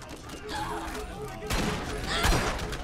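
Rapid automatic gunfire in the video game Borderlands, a dense burst of shots rising in loudness toward the end, with a voice faintly present under the shooting.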